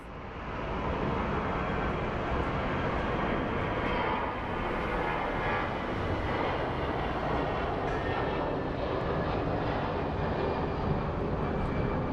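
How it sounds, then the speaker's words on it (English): A passenger plane takes off at Phoenix Sky Harbor International Airport, with a loud, steady, broadband engine roar that holds nearly constant throughout and no voices. "let's watch a plane take off."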